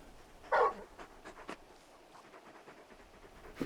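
A large dog in Final Fantasy XVI pants and whimpers softly in a quiet scene, with one brief louder whine early on and faint breathy sounds after.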